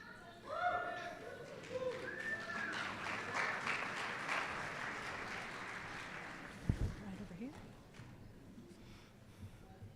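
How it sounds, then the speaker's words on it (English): An audience applauds at a 2024 graduation commencement ceremony, a sustained wash of clapping that swells early and then holds steady. A sharp knock or thump briefly cuts through partway. No one speaks over it. "burst into thunderous applause for every single one of them"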